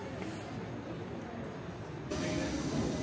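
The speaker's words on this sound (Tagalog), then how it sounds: "aming tren papuntang Interlaken Ost" A train pulls into a station in Switzerland, a steady rumbling and hissing rail sound that steps up louder about two-thirds of the way through, with no words spoken.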